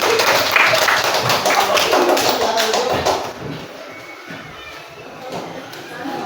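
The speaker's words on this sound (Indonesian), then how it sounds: "tepuk tangan untuk teman yang sudah dudukkan" A classroom of eighth-grade students claps together for classmates in a steady, dense patter that fades after about three seconds into quieter room noise with faint voices.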